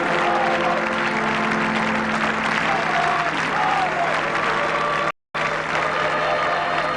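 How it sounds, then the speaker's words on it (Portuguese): A vast crowd at the Vatican applauds as Pope John Paul II's coffin is shown to them, continuous loud, dense clapping that swells with mixed voices and a brief cut near the end. "O corpo do Papa recebe um aplauso interminável."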